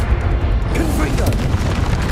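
A Confringo spell explodes in Hogwarts Legacy, a loud, heavy boom with a rumbling low burst that rolls on for about two seconds while a voice shouts over it.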